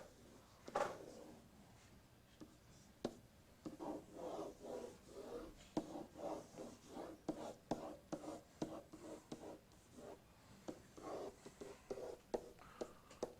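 Pen or marker strokes sketching a mechanical typewriter, a quick series of close, rhythmic scratchy scrapes with short pauses between strokes, faint murmuring in the background.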